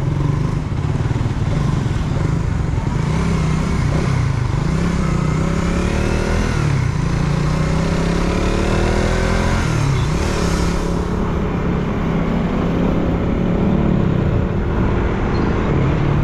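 Dense road traffic of motorcycles and cars, a loud constant roar of engines and revving passing close by, unbroken throughout with no talk.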